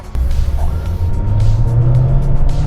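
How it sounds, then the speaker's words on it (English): Honda HR-V turbo pulling hard from inside the cabin, a steady low engine drone and road rumble building as it accelerates toward highway speed, continuous and fairly loud with no talk. "Oh wow, this car can pick up."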